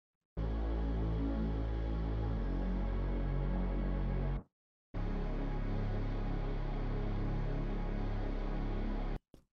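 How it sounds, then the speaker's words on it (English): A reverb bass layer in a future trap beat drones as a dense, sustained low tone with a smeared wash above it, loud and alone, stopping briefly midway and then resuming. "As well as another reverb bass"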